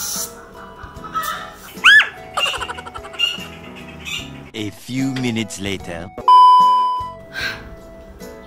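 A chicken clucks and squawks loudly in bursts, mixed with a person talking and a brief electronic beep.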